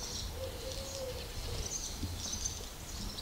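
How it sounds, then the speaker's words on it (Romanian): Faint birdsong drifts through the quiet outdoor air outside a monastery church, a few thin whistled calls and soft chirps over a low hushed background, with no voices. "Se aud doar păsările"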